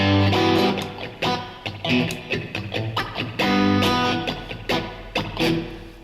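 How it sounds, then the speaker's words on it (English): Acoustic or electric guitar strummed in a steady rhythmic pattern, with repeated chord strokes and accents played alone at close range for about six seconds. "I picked up my guitar, and this is what I do quite often."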